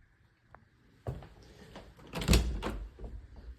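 A small bifold closet door in an apartment rattles and folds, with a soft knock near one second and a louder clatter of panels around two and a half seconds, close by and with no talking.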